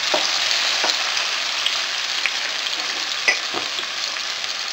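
Sliced yellow onion frying in a pan alongside minced garlic, a steady close sizzle that keeps going the whole time with a few faint pops and no voices.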